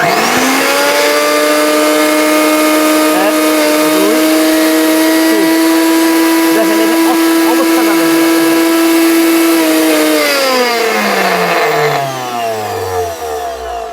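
A Miyako heavy-duty blender mincing meat runs with a loud, steady high-pitched motor whine, then spins down as it is switched off near the end.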